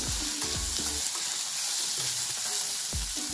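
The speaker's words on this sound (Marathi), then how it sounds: "आणि आता छान मस्त मऊ होईपर्यंत याच्यामध्ये भाजायचे" Ginger and garlic fry in oil in a pan for an egg curry, a continuous close sizzle with occasional clinks and stirring scrapes.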